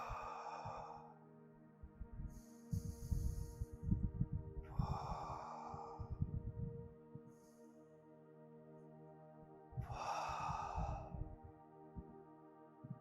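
Three long, deep breaths are drawn in and let out slowly during a guided hypnosis session, each soft inhale and exhale close to the microphone and separated by calm pauses, quiet under a faint steady background hum.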